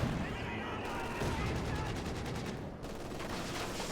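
Heavy Dushka machine gun spraying incendiary rounds in the video game The Finals, sustained rapid bursts mixed with other battlefield gunfire, loud and constant, with a brief lull near the end.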